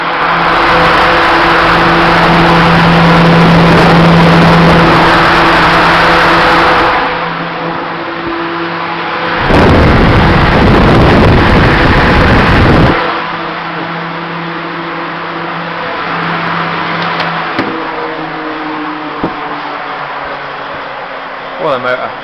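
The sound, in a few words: 19-inch Woods axial fan, 3-phase motor on single phase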